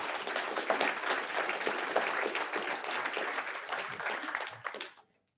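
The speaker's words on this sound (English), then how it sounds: "Big round of applause for our candidates." An audience at a school trustee candidate forum applauds steadily with dense clapping for about five seconds, then the applause stops abruptly.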